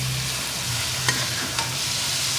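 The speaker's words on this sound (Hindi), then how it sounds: "टमाटर डालने के बाद तकरीबन 5 मिनट मैं इसे मज़ीद भूनूंगी" Tomatoes and spices frying in a karahi for mutton gosht give a steady, close sizzle, with a couple of soft stirring scrapes and no voices.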